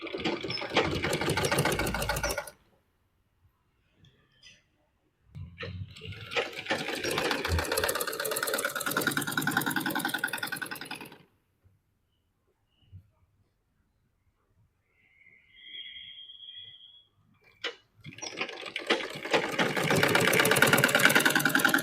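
Sewing machine stitching a blouse, running in several loud bursts of rapid whirring separated by silent pauses, with a brief quieter tone between runs.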